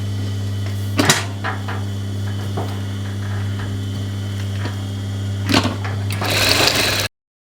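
A sewing machine stitches a dress neckline with a steady, close mechanical hum, punctuated by a few sharp clicks and rustles of fabric handling, before stopping abruptly.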